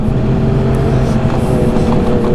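A stock 900 turbo snowmobile engine runs on a forest trail in western Quebec, making a loud, close, steady drone with little variation and no clear stuttering breaks.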